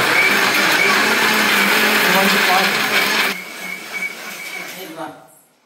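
A kitchen mixer grinder grinding ingredients for a Diwali festival dish, a loud steady high-pitched whir that runs for about three seconds, then drops and spins down to silence.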